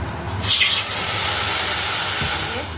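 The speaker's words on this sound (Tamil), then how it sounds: "தண்ணி விட போகிறோம்" Water poured into a pan of frying green beans (payathangai) being cooked for a milk curry, a steady loud hissing pour with sizzling steam that starts abruptly and runs continuously to the end.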